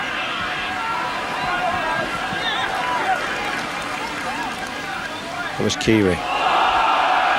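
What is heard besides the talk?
rugby crowd shouting for a forward pass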